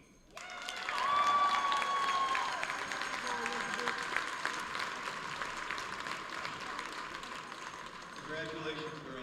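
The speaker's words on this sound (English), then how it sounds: "Please give a warm welcome and round of applause to Elizabeth Higby" Crowd applause in a gym at a girls basketball game between Central Catholic and Reynolds, clapping swelling quickly and then continuing steadily, with whistles or squeaks and some voices mixed in.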